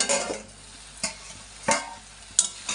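Chopped water spinach (kolmi shak) fries in a pan, a soft steady sizzle broken by four short bursts of stirring scrapes, close by with no talk.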